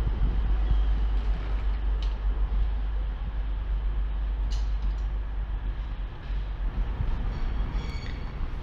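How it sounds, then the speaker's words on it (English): A four-coach Class 220 Voyager cross-country train pulls into Manchester Piccadilly station with a deep, steady diesel rumble and rail noise, plus a few faint metallic squeals and clanks, close and continuous throughout. "A cross-country train that is four coaches, so it is most likely a 220 Voyager, makes its way into the station"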